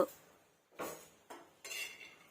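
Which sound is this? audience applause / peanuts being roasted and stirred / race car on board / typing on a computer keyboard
peanuts being roasted and stirred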